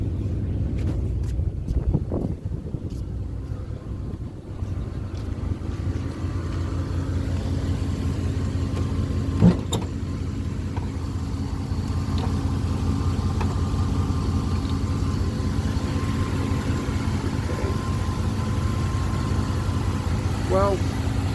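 A 1996 Dodge Ram engine idles steadily with a low, even rumble throughout, some wind buffeting the microphone and a brief knock partway through.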